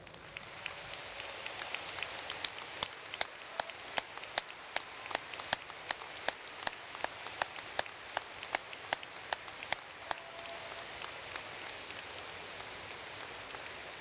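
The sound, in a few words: round of applause for veterans at commencement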